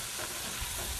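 Onion, leeks, carrot and celery cook in a pan with a steady, close sizzle and soft stirring scrapes running throughout, with no one talking.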